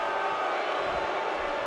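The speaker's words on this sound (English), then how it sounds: "this crowd is alive right now" Wrestling arena crowd cheering: a steady, dense roar of many voices fills the space, sustained and fairly loud with no breaks, a wash of shouting and cheering from a large audience.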